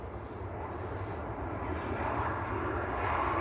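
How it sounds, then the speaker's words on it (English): A Tui airliner arriving from Rovaniemi touches down at Manchester Airport, its engines a distant, steady broadband roar that swells slightly toward the end. "Tui from Rovaniemi, just touching down."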